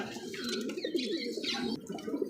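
Racing pigeons of the red and black checker kinds coo close by in soft, rolling throaty calls that continue for the whole stretch, with faint chirps above them.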